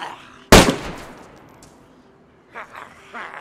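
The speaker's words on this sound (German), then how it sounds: "3 Schuss reingejagt." A single loud, sharp gunshot in the video game DayZ, close with a short echoing tail, followed by faint soft sounds.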